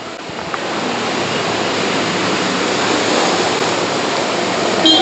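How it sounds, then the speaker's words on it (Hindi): Floodwater on a road under the Palam flyover near a metro station sloshes and churns steadily as vehicles drive through, a loud, continuous wash of water noise with no talk. "ये पानी जो है वो लगातार हिचकोले खा रहा है, क्योंकि गाड़ियाँ जो हैं वो यहाँ से निकल रही हैं"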